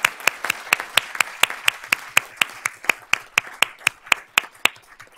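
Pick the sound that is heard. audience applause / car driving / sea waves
audience applause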